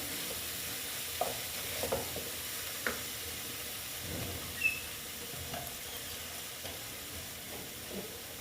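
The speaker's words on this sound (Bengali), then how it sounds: "এটার সঙ্গে ভালো মতন আবার একটু ভেজে নেব মানে কষিয়ে নেব" Koi fish masala frying in a pan while being stirred, with a steady low sizzle under a series of soft scraping strokes spread irregularly across the stretch, close and moderately quiet.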